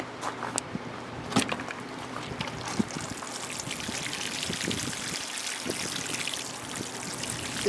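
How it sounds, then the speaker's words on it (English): Pond water is poured and splashed over a freshly transplanted mango seedling, a soft continuous trickle and soak with a few sharper drips, heard close and fairly quiet with no talking. "My last step is to water it in."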